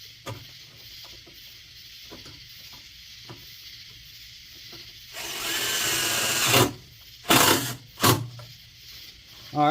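A power driver snugs down bolts on a 440A Navitas Bluetooth controller in a 36-volt EZGO golf cart: one sustained whirring run, then two short quick bursts, over faint background clatter.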